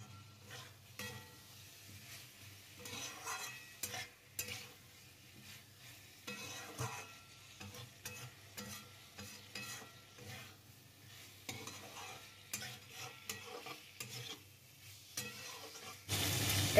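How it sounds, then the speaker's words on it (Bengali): About five boiled, cut potatoes are stirred with spice masala in a pan, making soft, irregular scraping and faint sizzling sounds, quiet and close, with no talking. "এবার আলুর সঙ্গে মশলাটাকে ভালো করে আমি মিশিয়ে নিতে হবে।"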